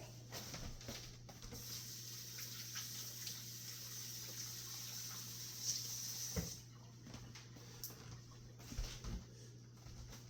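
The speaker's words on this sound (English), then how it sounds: "Let me wash off my paws real quick." Water runs steadily from a tap as hands are rinsed, a continuous close splashing hiss with brief louder splashes, after handling bacon being cured at home.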